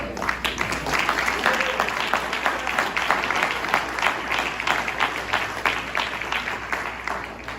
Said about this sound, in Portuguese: aplaudindo o nome do Senhor